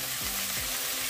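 Bay leaves and cashews sizzle in a hot pan, a steady loud hiss of frying oil with faint low scraping underneath.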